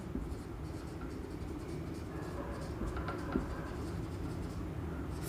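A marker or pen scratches steadily on a board while a note is written in a box during an accounting lesson, a faint, continuous scraping under a constant room hum.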